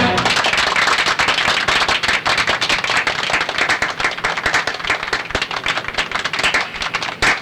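A minister claps in a Hindi action film scene, with a dense run of sharp, close hand claps that rise and fall unevenly in strength.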